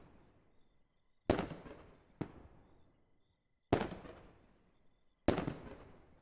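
Four booming fireworks explosions from the video game Fireworks Mania burst one after another at uneven intervals, each sharp crack trailing off in a long decaying rumble, with no one talking.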